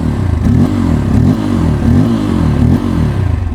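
Bajaj Pulsar N250 motorcycle engine idling after a start, a steady, close, loud exhaust burble with rhythmic low pulsing and light mechanical clatter.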